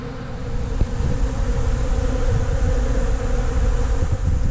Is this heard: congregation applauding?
no